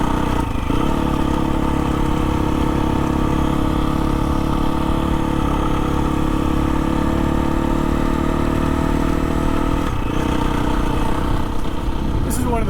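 A KTM XC-F 350 trail bike ridden at speed on a mostly gravel road, with a steady, loud engine drone and rumble that holds throughout and dips briefly near the end.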